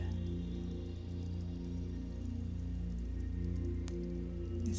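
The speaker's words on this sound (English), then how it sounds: "listening to the sound of the water flowing as it cascades down from the cliff face down across the rocks into the pool of water" Water cascades from a cliff face over rocks into a pool: a steady, even rushing wash with a low constant rumble and tonal hum, moderately loud, with a single faint click near the end and no talk.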